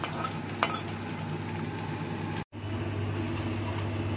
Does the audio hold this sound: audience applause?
no